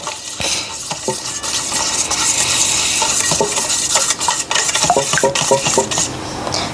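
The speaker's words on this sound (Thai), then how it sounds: "กลิ่นวานิลาใส่ลงไปเลย คนให้เข้ากัน" Waffle batter being stirred in a bowl just after vanilla goes in, a steady busy scraping and clinking of utensil against bowl throughout, fairly close and with no talk.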